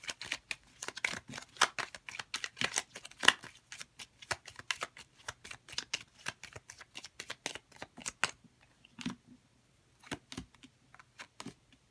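Cards from a small gypsy oracle deck are handled and drawn, making rapid crisp flicks and riffles up close, then sparser single snaps with short pauses between them.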